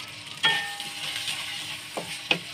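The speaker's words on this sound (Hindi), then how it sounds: "मैं मक्खन से अंडा तल रही हूँ" An egg frying in unsalted Nurpur butter gives a steady, moderate sizzle throughout, broken by a few sharp clicks and taps of a utensil against the pan.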